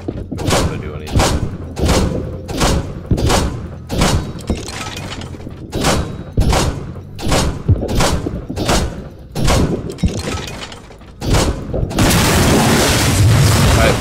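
BMP armored vehicle in a video game taking a rapid series of loud explosive booms and thuds, about a dozen blasts roughly every second, with a roaring, crackling burst near the end.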